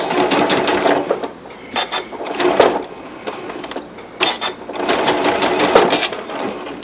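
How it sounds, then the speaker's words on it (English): A sewing machine stitches magnet backing onto a Sewtites leader in bursts of running, with short pauses in between where the fabric is slid over. "make sure I'm not stitching on the metal"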